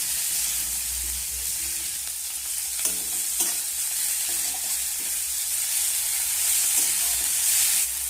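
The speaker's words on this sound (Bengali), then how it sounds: "টমেটোটাও আমি পেঁয়াজের সাথে ভালো করে ভেজে নেব।" Chopped tomato fries with onion in a pan, giving a steady sizzle with a few soft stirring scrapes and clicks and no voices.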